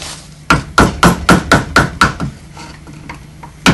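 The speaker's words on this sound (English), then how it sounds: "I'm going to use my B gouge, which is this one, and just work in a circle around the eye first of all." Mallet striking a gouge while carving around a carp's eye in walnut, about ten sharp close knocks in a steady rhythm that fade toward the end, with one more knock at the close.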